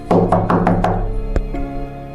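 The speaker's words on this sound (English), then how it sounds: "He was cut off by frantic knocking that trailed off to" Five rapid, heavy knocks on a door land close together, then two slower isolated thuds follow as the knocking trails off, set against a low rumbling drone in a tense, scary atmosphere.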